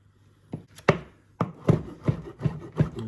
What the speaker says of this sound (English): So I'm gonna chop it very finely.